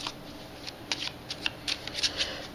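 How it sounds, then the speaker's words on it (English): Magic: The Gathering cards are riffled and shuffled close by in a series of quick, crisp fluttering bursts, with a faint steady hum underneath and no talking. "you take your deck and you shuffle it"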